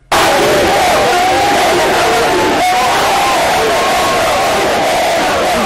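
A dense, loud crowd roars steadily throughout around Félix Tshisekedi at an airport in the DRC, cheering voices and shouts blending into constant near babble with no pauses.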